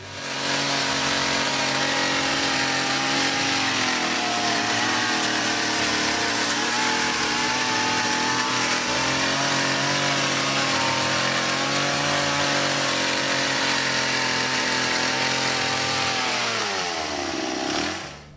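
A chainsaw runs continuously and loudly at steady high revs, close by, for about eighteen seconds before cutting off abruptly. No voices are heard.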